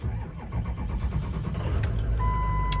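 A 2006 Ford E-450 box truck's Power Stroke turbo diesel engine cranks and catches, then settles into a steady low rumbling idle close by, with a faint electronic beep near the end.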